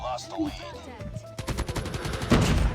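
A burst of rapid automatic gunfire in Call of Duty Mobile starts after a brief lead-in, a fast, loud, evenly spaced stream of shots with voices heard before and around it.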